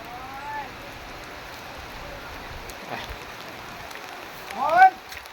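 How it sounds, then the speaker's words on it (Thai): Steady patter of rain falling on a surface, with animal chirps and a brief squawk rising near the end. "ฝนก็ตกนะครับ"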